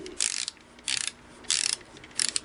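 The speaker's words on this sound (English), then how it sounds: "so we'll just put the socket on there, and we'll give it a few turns to loosen it up." A socket ratchet loosening the motor bolt on a Singer 353 Genie sewing machine, making four short bursts of quick clicking at a steady pace, close and fairly quiet, with no talking.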